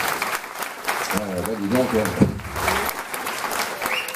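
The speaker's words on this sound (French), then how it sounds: "On peut les applaudir tous les trois, même tous les quatre." Audience applause at a live show for several participants, sustained clapping from the crowd while someone speaks briefly over it near the middle.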